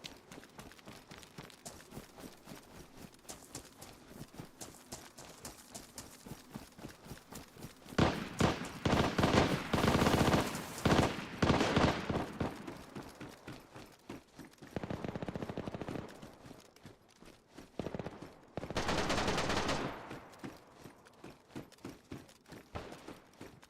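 Submachine gun fire in the survival game DayZ, rapid mechanical bursts repeating steadily, with several louder, longer sustained volleys near the middle and again toward the end.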